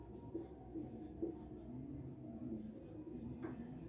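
Pen strokes scratch faintly across paper while a maths solution is written out, short soft scribbles repeating over a quiet background hum.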